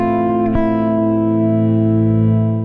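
A sustained electric guitar phrase built on chord tones with upper neighbor notes, including a half step upper neighbor on the fifth, rings out with effects and reverb, with a brief pick attack partway through and the notes sustaining evenly throughout.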